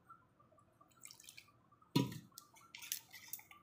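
Water poured into gram flour batter for bitter gourd fritters in a home kitchen, faint drips followed by a sudden spoon clatter and wet stirring against the bowl.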